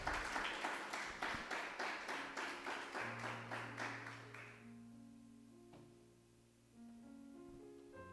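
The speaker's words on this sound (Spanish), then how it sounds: "Dele un aplauso al Señor." A church congregation claps for the Lord in a brisk rhythmic beat that fades out after a few seconds, leaving sustained keyboard chords ringing.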